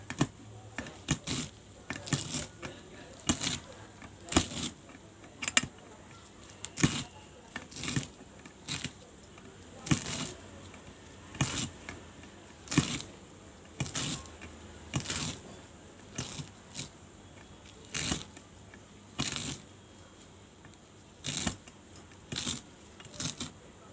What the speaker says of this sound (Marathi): अळू मी विळीवर कापून घेते बारीक.